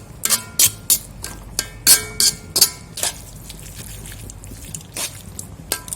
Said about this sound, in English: I'm gonna stir them.